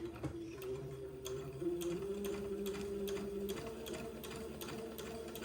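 A sewing machine runs steadily, stitching the second pass of a French seam about 3/16 inch from the edge on a baby's day gown. The motor hums close and continuous, with a light ticking of the needle throughout.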